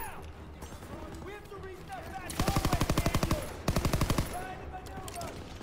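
Rapid automatic gunfire from Call of Duty WW2 rattles out in two loud sustained bursts, each about a second long, over a background of battle noise and someone talking.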